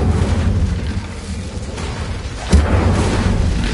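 Incendio fire spell cast in Hogwarts Legacy, one sharp whooshing burst of flame halfway through that rises out of a low rumbling game ambience, loud and close.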